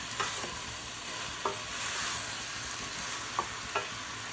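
Ingredients for mushroom biryani fry in an AMC Cookware pan with a continuous close sizzle, while a utensil stirs and scrapes the pan in a few distinct clinks. No one speaks.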